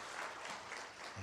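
Congregation claps to welcome new church members during an Easter Sunday service, a brief burst of dense, fairly soft applause heard from a distance.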